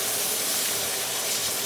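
Vinegar hits a hot pot of chili to deglaze it, giving a steady, loud, unbroken hiss of sizzling steam that holds even throughout.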